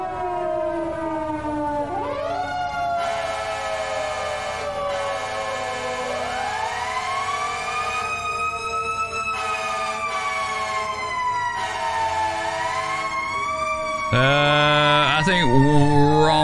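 An FDNY fire truck siren wails loudly and continuously, sweeping up and down in long rising and falling tones, with a brief pause before it kicks back in and a sharper yelp near the end, heard from aboard the responding truck.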